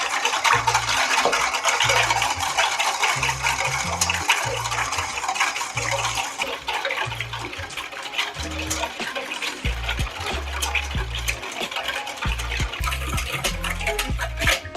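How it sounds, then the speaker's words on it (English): A whisk beats salad dressing with coconut milk in a bowl, giving steady, rapid, rhythmic scraping and sloshing close by. No one speaks. "I'm gonna go ahead and whisk all this good stuff together"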